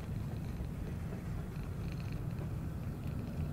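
In a horror video game set in 1958, a cat purrs close up with a steady, low, grainy rumble that runs unbroken from start to finish, with no voices over it.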